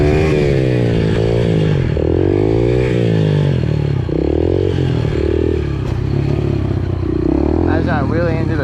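A Yamaha TTR pit bike engine revving and droning through wheelies, loud and close, its pitch rising and falling with throttle, while riders talk over it.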